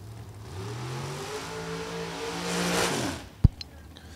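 A drag racing car makes a pass in round four of an American Dream Summer Shootout event, its engine note climbing through several rising harmonic sweeps before a sharp crack and abrupt cutoff near the end.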